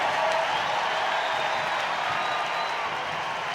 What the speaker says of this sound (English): You can hear the cheers.